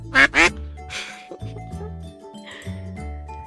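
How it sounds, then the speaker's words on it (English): Ducks in the indie otome game Pre-Odyssey give two sharp, loud quacks right at the start, then a background music loop carries on with a few fainter sounds over it. "Let your cousin have her ducks around."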